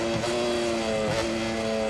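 A Ducati racing motorcycle's engine in the MotoGP 22 video game, holding a steady high-pitched whine with layered harmonic tones and a slight dip in pitch midway. It sounds close and continuous, with no one talking.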